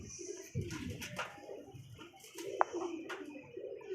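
Pigeon cooing softly in short, repeated low calls, fairly faint, with a few other light chirps around it and no talking.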